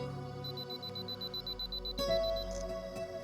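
A camera's 2-second self-timer beeps steadily at a quick pace, then a mechanical shutter click lands near the end, with faint background hum and no talking.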